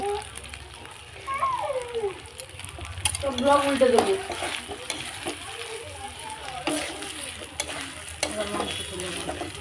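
Mutton curry with chopped tomato is stirred in a sizzling pan, with scraping spoon strokes and frying crackle under someone speaking.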